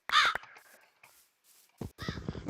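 A crow in a survival video game gives a few harsh caws, loud and close at first, then fainter calls and a scuffle of game noise follow, with no talking.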